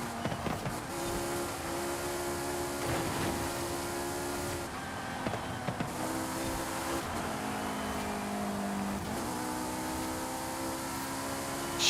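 A car engine in the racing game Forza Horizon 5 drones steadily at high revs, its pitch stepping up and down through the gears with brief dips at each shift, one of them clumsy, loud and continuous throughout.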